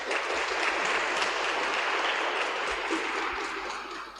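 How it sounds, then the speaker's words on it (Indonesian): Congregation at a Pentecost Mass gives sustained applause for a junior church choir, a steady dense wash of clapping filling the space throughout, tapering slightly at the end. "Tepuk tangan untuk dorang ya."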